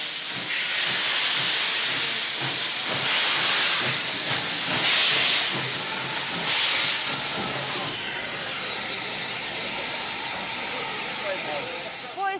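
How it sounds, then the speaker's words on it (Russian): A steam locomotive pulling the Victory train arrives in a Crimean city with a loud, continuous hiss of steam and a low rumble. The hiss fades somewhat toward the end. "на горизонте появляются клубы пара, а воздух содрогается от долгожданного гудка"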